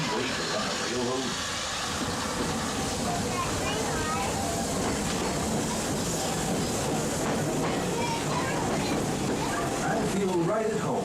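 Magic Kingdom railroad train runs on its rails with a continuous rumble and faint clicking and hiss beneath steady narration, spread throughout at an even level.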